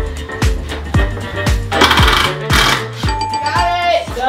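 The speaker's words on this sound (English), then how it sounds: "Drill bit again." A power drill bores into a bedroom wall during a renovation, with repeated sharp rhythmic impacts about twice a second, loud and close, joined briefly by a voice.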